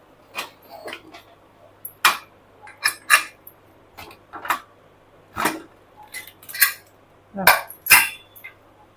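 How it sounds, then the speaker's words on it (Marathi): A pressure cooker lid is opened after cooking Khandeshi masala khichdi, giving a string of sharp metallic clicks and clanks at irregular intervals, close up, with no talking. "आता आपण झाकण उघडून बघूया"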